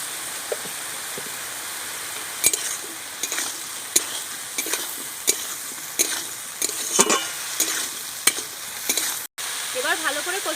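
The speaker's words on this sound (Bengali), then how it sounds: "এবার ভালো করে কষিয়ে নেব" Fish curry with turmeric and salt is stirred and fried in a pan, giving a steady soft sizzle with irregular scraping stirs of a spoon, close and fairly quiet.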